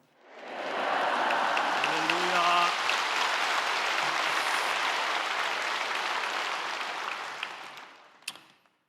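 A large church congregation at a Wednesday worship service greets the pastor with a swelling wave of applause that rises quickly, holds steady and broad for several seconds, then fades out, with faint voices briefly at the start.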